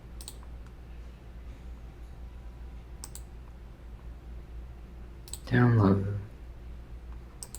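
Mouse clicks sound while files are being downloaded: a few sharp, sparse clicks spaced seconds apart, close and fairly quiet, with one brief spoken word between them.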